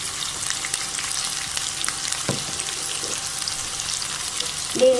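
Tempering oil for mango pulihora sizzles and crackles steadily up close as asafoetida goes into the pan, with a brief louder spit near the end and no talking.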